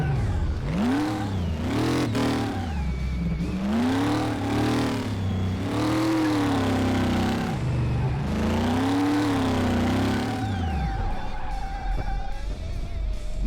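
A supercharged 1932 Ford Roadster in Car Mechanic Simulator revs loudly in repeated rising and falling waves of acceleration, shifting through the gears, then the engine note drops away near the end.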